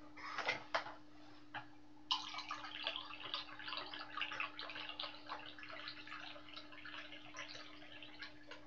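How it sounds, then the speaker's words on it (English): Coffee being poured into a cup gives a quiet, steady liquid trickle with a few faint drips at the start, heard alone against a low electrical hum. "Pouring myself a coffee here."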